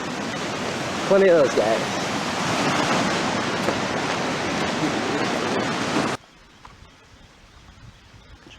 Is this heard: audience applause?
no